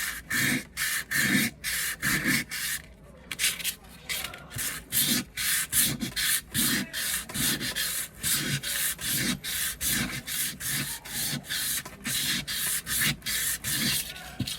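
A rusty kitchen knife is polished by hand toward a mirror finish, making close, rhythmic back-and-forth rubbing strokes, roughly twenty of them, that repeat steadily with short gaps between.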